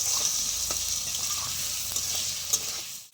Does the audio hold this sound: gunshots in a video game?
no